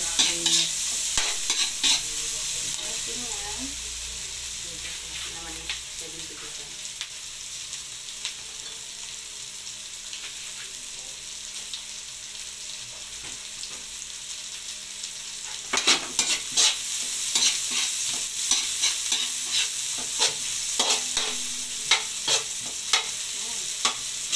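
Steady hissing sizzle of chilies frying in a pan for chicken caldereta, with occasional stirring scrapes; the sizzle grows louder and busier partway through.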